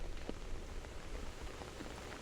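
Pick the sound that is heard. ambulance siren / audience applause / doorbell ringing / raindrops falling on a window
raindrops falling on a window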